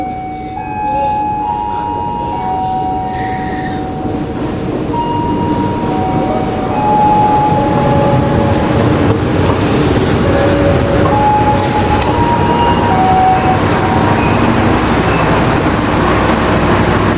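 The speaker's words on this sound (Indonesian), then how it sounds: "kereta api Siantar Express telah tiba di jalur 1 stasiun Tebing Tinggi" The Siantar Express passenger train, hauled by a CC 201 locomotive, rumbles and rolls into Tebing Tinggi station with loud, steady mechanical noise, squealing tones and rising roar, with some voices faintly underneath.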